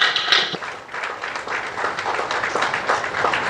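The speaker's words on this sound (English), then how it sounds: "Round of applause for him, please." Steady applause fills the hall for a speaker at a stammering awareness event. The clapping is dense, sustained and close, with crowd noise mixed in.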